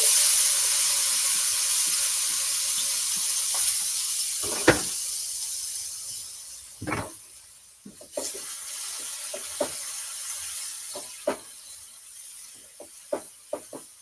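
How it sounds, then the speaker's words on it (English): Seasoning and pineapple sauté in a pan with a steady, bright hiss, while occasional clinks and knocks of a utensil against the pan come through the sizzle; no voices. "So we're just sauteing some seasoning with some pineapple."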